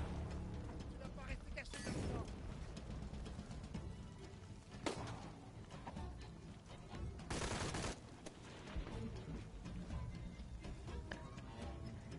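Submachine gun firing in the video game Shadow of the Tomb Raider, rapid bursts amid mechanical clatter with a louder burst near the end, under a game soundtrack, with a person talking over it.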